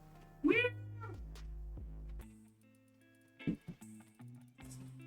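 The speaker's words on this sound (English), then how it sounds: "It's the cat that meows the whole time." House cat meowing near the microphone, with one loud drawn-out meow followed by a shorter meow a few seconds later, set against a quiet musical background.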